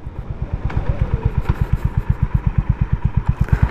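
A Honda Highness CB350 motorcycle runs through a slow U-turn, its single-cylinder engine thumping in a steady, fast rhythm that stays close and loud throughout with light mechanical clatter.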